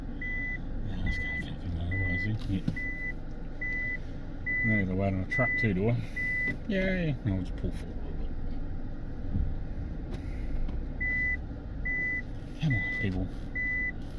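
The reverse beeper on an old flat-nose Volvo truck sounds in an even, repeating series of electronic beeps, running through most of the stretch and pausing midway, while people talk nearby.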